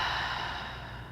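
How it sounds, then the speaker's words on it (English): One deep exhale during a post-run yoga session, a long breathy rush of air that starts strong and slowly fades, heard close and alone. "Exhale, releasing the breath out."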